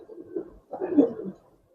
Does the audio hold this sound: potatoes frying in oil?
no